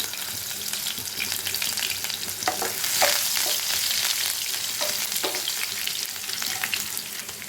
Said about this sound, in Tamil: இப்போ சோம்பு பொரிஞ்சதும் இதில் பச்சை மிளகாய், இஞ்சி,